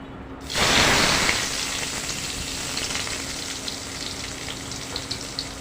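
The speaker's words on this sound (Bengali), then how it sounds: "সবগুলো মাছ সুন্দর করে ভেজে নেব।" Rohu fish pieces frying in hot oil, a loud sizzle bursting in as the fish hits the pan and then settling into a steady, crackling hiss with small pops.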